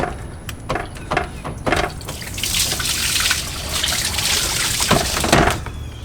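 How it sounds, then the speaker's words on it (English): Plain water runs and splashes over a car engine near the thermostat housing, a close, fairly loud irregular trickle and spatter with brief pours and drips throughout. "I'm running straight water on the engine, so it doesn't matter if I spill it everywhere."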